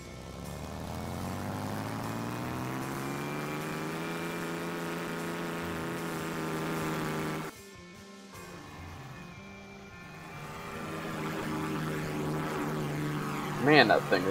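The Super Bomber aircraft in the SimplePlanes video game drones loudly with a steady, harmonic propeller engine roar that briefly drops out, then returns and builds again.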